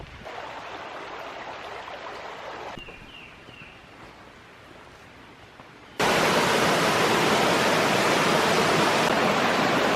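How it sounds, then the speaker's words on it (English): A large waterfall at Stone Mountain State Park roars as a broad, steady rushing wash, softer at first, dipping briefly, then surging suddenly louder and fuller as it comes close. "Wow, it's one big waterfall, I should say."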